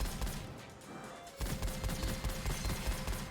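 Rapid automatic weapon fire in the roguelite shooter Gunfire Reborn, a dense burst of quick shots that grows heavier and faster after a short pause, loud and continuous.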